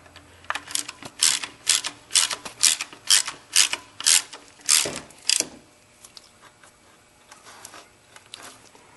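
Hand ratchet tightening the drive belt tensioner on a Toyota, a run of about ten sharp close clicking strokes in quick rhythm that then stops.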